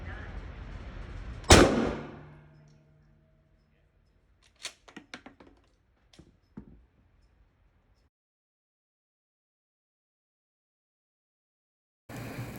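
A shotgun fires Federal shorty shells loaded with number 4 buckshot, one loud close blast followed by a series of fainter clanks and clicks, then silence.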